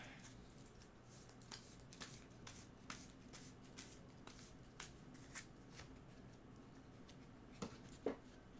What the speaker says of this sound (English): just grab these piles like randomly, and then just start shuffling them.